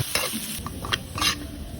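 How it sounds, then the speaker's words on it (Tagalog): Lots of garlic and onion sautéing in a pan for adobo sauce, a steady close sizzle with quick scraping stirs of a spatula against the pan. "Tsaka tayo mag-isa ng maraming bawang, sibuyas, kagaya yan."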